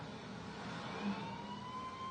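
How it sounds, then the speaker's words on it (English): An ambulance pulls away toward hospital, its engine and road noise a steady distant rumble with a faint rising siren-like tone, carrying on evenly with no voices. "The ambulance carrying the little girl took off for Bedford County General Hospital"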